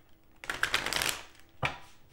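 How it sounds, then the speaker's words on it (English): Tarot cards shuffled by hand in two bursts, a long riffling flutter followed by a shorter second shuffle, close and fairly loud with no talking. "I'll do 3 shuffles"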